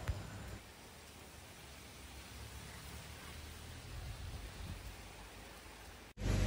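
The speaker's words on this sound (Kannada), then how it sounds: "ಮಳೆ ನೋಡಿ ಎಷ್ಟು ಜೋರಾಗಿ ಬರ್ತಿದೆ." Heavy rain pours down steadily in a dense, even hiss, loud and continuous, with a sudden louder burst right at the end.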